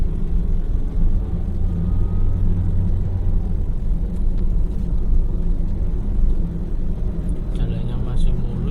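Heavy trucks roll past along the Pantura highway between Lamongan and Gresik, a steady, dense low engine rumble and road roar filling the scene with no break, faint higher noises flickering near the end.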